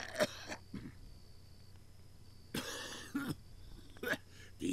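A character in the adventure game Dead Synchronicity coughs and clears his throat in several short, rough bursts spread over a few seconds, with quiet gaps and faint background ambience between them.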